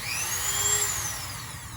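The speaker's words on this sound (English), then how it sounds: "we're going to put that in our Dremel to do the dirty work." A Dremel rotary tool with a small round sandpaper bit spins up on a stormtrooper costume shoulder bell. It gives a brief high whine that rises and falls in pitch over a steady hiss.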